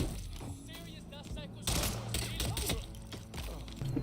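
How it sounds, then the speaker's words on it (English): Rapid video-game gunfire crackles in dense bursts, loud and close, over music and other game effects. "Those gunshots aren't usually silenced, but okay."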